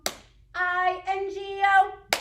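A single sharp hand clap at a library farm storytime during the Bingo song, followed by a sung phrase, then another crisp clap close by.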